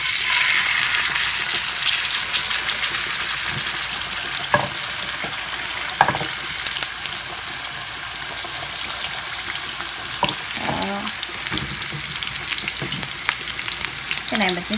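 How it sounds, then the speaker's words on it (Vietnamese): Scored pork sizzles and crackles in a frying pan, a steady broadband hiss with occasional louder pops and spits, close and continuous with no talking. "rồi bắt đầu mình chiên đi nha mọi người"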